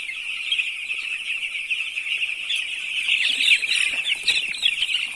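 Young chicks on a poultry farm peep constantly in a dense, high-pitched chorus of overlapping cheeps, close and fairly loud throughout.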